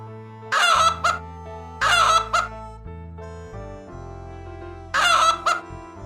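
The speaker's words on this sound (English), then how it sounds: "Chicken," A rooster crows three times in a steady, evenly spaced pattern, loud and close, over a bed of background music and short clucking sounds from farm chickens.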